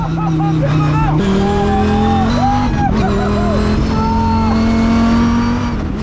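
Car lapping a race track on a track day, its engine note climbing and dropping through gear changes in loud, close revving sweeps, with shouting voices over the top.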